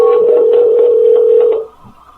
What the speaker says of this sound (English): that was a weird ring